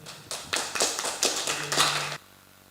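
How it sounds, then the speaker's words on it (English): Short burst of audience applause for a keynote speaker at an English teaching webinar, a few seconds of scattered clapping and taps that stop abruptly. "give applause to our first keynote speaker, please"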